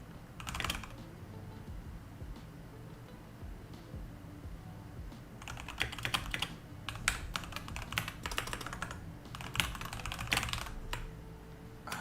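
Steady computer keyboard typing while writing code, a close clatter of keystrokes running through the whole stretch and growing busier and denser in the second half, with no talking.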